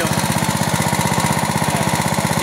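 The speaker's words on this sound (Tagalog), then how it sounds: "Hindi ko pinatay yung makina." A small engine powering a drip irrigation water supply chugs close and loud with a rapid, even thumping rhythm that holds steady throughout.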